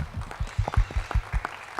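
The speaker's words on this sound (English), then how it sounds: "That deserves to be applauded" Scattered clapping from a panel discussion audience in Hagerstown, Maryland, a few quick bursts of hands over about two seconds, fairly close and with no talk over it.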